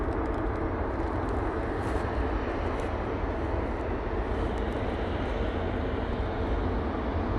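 A Jet2 airliner starts its takeoff roll at Manchester Airport, a steady broad engine roar that holds evenly throughout, moderately loud and distant with no voices.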